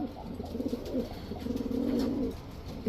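A pair of black Gorra pigeons, a male and a female, coo softly and steadily nearby for about three seconds, with no talking.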